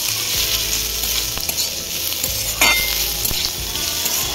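Beetroot sizzles and fries in a pan with a continuous hiss, while a utensil scrapes and stirs several times, close and fairly loud, with no talking.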